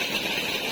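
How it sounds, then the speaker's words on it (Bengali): An electric water pump motor runs steadily at a bathing spot, a constant close, droning hum with a buzzy mechanical texture and no breaks. "মোটর চালু আছে।"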